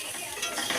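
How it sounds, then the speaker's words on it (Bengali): Vegetables, carrots, beans, cauliflower, potato and paneer, being stirred in a pan for a vegetarian curry, a soft continuous scraping and sizzling close by, steady throughout with a slight rise toward the end and no voices. "সব সবজিগুলো এবার নাড়া হচ্ছে।"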